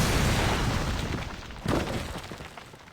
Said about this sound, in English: Forgot it was a lightning strike.